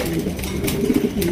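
A pair of white king pigeons coo softly at a market, their low murmuring coos layered over a busy, noisy background.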